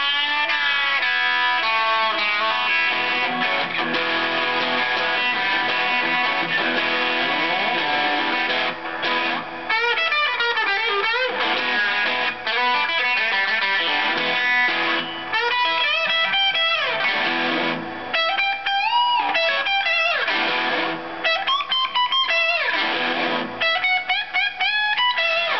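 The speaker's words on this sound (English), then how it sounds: "it can play some good distortion and whatnot. So I'll give you a little example." A distorted electric guitar, a Suhr Classic T with F hole through a Fender Deluxe Reverb amp, plays a continuous riff with bends and sustained notes, dense and loud, with no voices.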